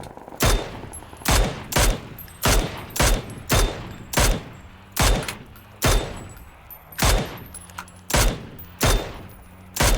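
Loud bursts of M249 light machine gun fire in the PUBG battle royale game, roughly a dozen sharp volleys in quick succession with brief pauses between, close and dominant with no talk.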